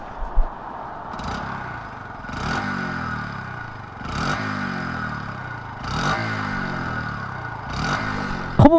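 A Hunter Cub motorcycle exhaust idles with a low, throaty burble, revved up five times in an even rhythm, close by.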